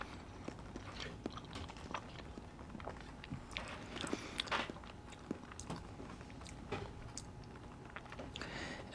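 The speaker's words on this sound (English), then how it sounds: "I'm going to just eat the bread." Someone eats a piece of cinnamon bread with the cheese set aside, giving soft, irregular chewing and biting sounds, close and fairly quiet, with no talking.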